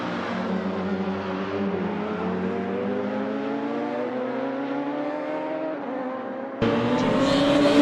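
Race cars in a Clubman Drivers Championship round, engines droning at high revs with rising pitch as they pass, then a sudden louder, brighter roar as another car comes close.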